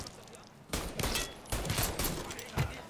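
Gunfire in the video game Mafia III: several sharp shots and short bursts ring out in quick, irregular succession over a quiet background.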